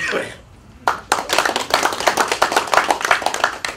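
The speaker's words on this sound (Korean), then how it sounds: "다들 박수로서 그렇게 받아주시면 감사합니다." Audience at a community meeting applauding; a short murmur of talk, a brief pause, then a burst of close, fairly loud hand clapping that continues steadily to the end.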